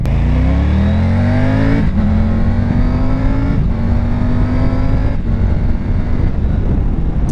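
A 2020 Triumph Tiger 900 Rally Pro's T-crank three-cylinder engine revs hard and close, rising through several gear-change pulls, with the pitch climbing and briefly dipping between shifts.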